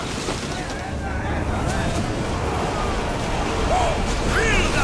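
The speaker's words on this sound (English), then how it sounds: "Feel that wind!" Strong wind and crashing waves at sea in the Assassin's Creed Odyssey video game, a loud continuous roar of gusts and surf with faint creaks and distant shouts over it.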